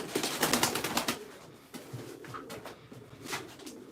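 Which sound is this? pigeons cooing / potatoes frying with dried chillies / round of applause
pigeons cooing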